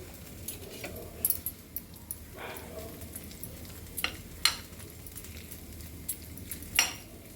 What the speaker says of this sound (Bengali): এর সাথে চিজটা আমি মেখে নেব সুন্দর করে